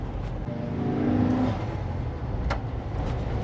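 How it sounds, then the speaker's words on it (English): A Volkswagen Type 2 T2 camper van's rear-mounted engine revs up steadily in second gear, rising in pitch then easing off, with road noise throughout and a brief sharp click partway through. "Feels odd to be revving an engine so high in second gear"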